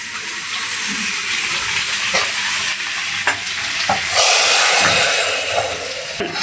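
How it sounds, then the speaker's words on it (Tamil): Cumin seeds sizzling in hot ghee as a tempering poured into spinach dal: a loud, steady crackling hiss with stirring and occasional sharper pops, close up and without talk. "சீரகம் போட்டு தாளித்து ஊற்றலாம். மொறு நெய் வாசனை நல்லாயிருக்கும்"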